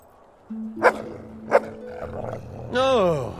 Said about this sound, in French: Voilà un gentil chien errant en colère.